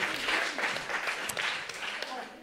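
Applause at an innovation awards event, a dense, bright spread of many hands clapping together that holds steady and then tapers off slightly at the end.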